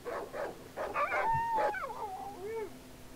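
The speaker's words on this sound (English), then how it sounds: "There was just barking, like, dogs barking, wolf barking, and then... dog crying out in pain." Dogs and wolves in the horror video game Darkwood bark, yelp and let out whining, howling cries in a rapid, overlapping series, fairly loud and with no talk.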